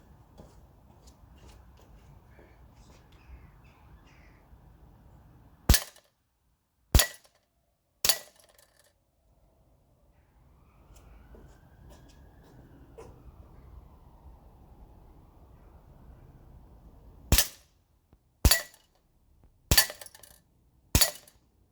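VFC HK45 airsoft pistol firing at a target in cold winter weather: sharp snapping shots, three spaced about a second apart, a quiet gap, then four more in quick succession, with faint background hiss between.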